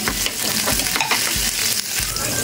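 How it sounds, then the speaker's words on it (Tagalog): Garlic and onion fry in hot oil in a pan, a steady dense sizzle with a few stirring scrapes and clatters recurring about every half second. "Ibigay na oil mainit na. Lagyan natin yung bawang."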